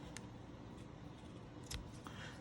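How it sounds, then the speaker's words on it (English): Ribbon scissors snip through a length of craft ribbon during card making: two or three quick, crisp cuts close by, with no voices over a steady low background hiss. "Let me grab my ribbon scissors back out."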